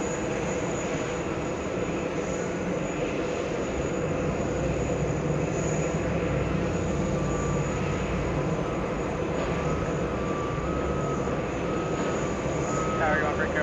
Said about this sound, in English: That's a Merijet International 3022 landing on